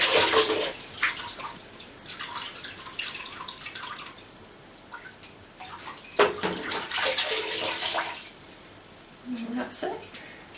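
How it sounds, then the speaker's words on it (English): Horse bridle bits being washed in warm water: intermittent splashing, dripping and sloshing with small metallic clinks, close and fairly quiet, with a voice talking at times. "I just wash them in warm water."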